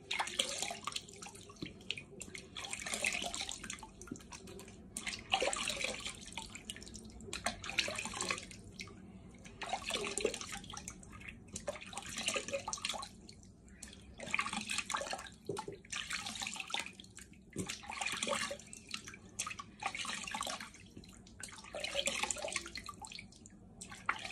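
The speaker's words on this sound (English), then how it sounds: "Okay, I've now got my tepid water. I'm going to rinse my face." Tepid water splashes repeatedly at a bathroom sink as a face is rinsed, with rhythmic bursts of splashing and dripping over a running tap, close and fairly loud, with no talking.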